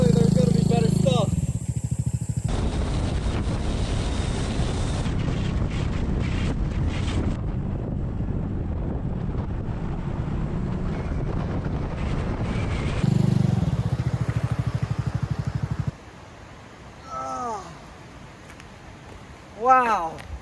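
A motorcycle rides through the Korean countryside, its engine droning under heavy wind buffeting on the microphone. The roar swells and fades between sections, and brief rising whines come near the end.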